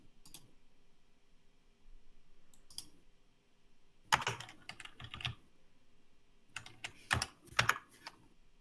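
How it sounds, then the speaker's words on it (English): Computer keyboard typing during an online game jam session, quiet scattered keystrokes at first, then two clusters of rapid, close clicking taps with no talking. "Keyboard noises coming up."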